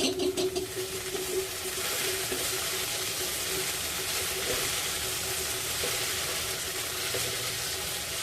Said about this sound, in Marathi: लसूण सुद्धा मस्तपैकी परतलं गेलं आहे